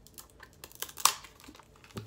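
Scissors cut into tightly sealed plastic packaging from a Scentsy scent box, making crinkles and light rustles with one sharp snip near the middle. The sounds are close and fairly quiet, with no talking.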